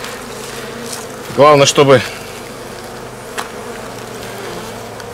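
Honey bees buzz steadily at a hive during autumn sugar syrup feeding, a close continuous drone that runs throughout while someone speaks briefly in the middle.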